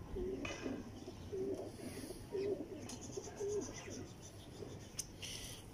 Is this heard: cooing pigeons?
yes